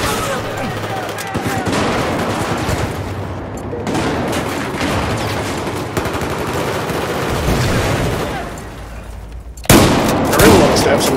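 Machine gun fire in the video game Battlefield 4, dense rattling bursts and gunshots running for most of the stretch, loud and busy, with a sharp blast near the end.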